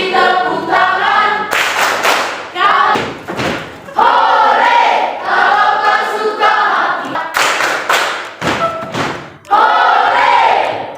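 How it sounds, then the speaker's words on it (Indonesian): Classroom of children clap hands in bursts to the action song "Kalau kau suka hati", sharp group claps punctuating loud sung lines and cheering. "Kalau kau suka hati tepuk tangan."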